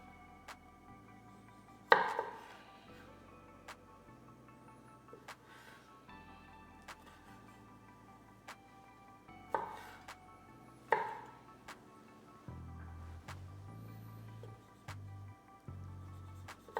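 A knife chops cherry tomatoes on a board for pineapple fried rice: two sharp, close strikes stand out with a few fainter taps between them, over soft steady background tones.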